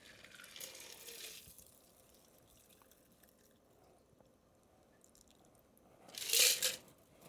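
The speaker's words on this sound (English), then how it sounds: "Okay, ditch the ice. And again with the double strain." A Last Word cocktail double strained into a glass, with faint liquid trickling early on and a louder splash near the end as ice is dumped, close and without speech.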